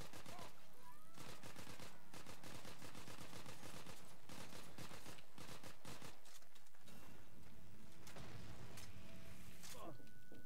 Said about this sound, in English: this is actually a really good gun because you can just shoot for a long